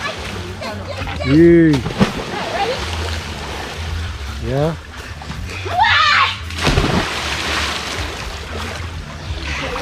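People jump off into Sweet River, sending up loud splashes and sloshing water, with children and adults shouting and talking over the wash of the river.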